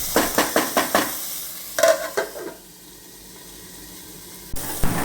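Tomato sautéing in a pan: a run of quick spoon clatters and stirring strokes gives way to a soft, steady sizzle, followed by a louder sizzling burst near the end.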